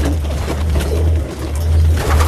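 Pigeons coo steadily and close by, a low throaty warble repeating through the whole stretch with no talking.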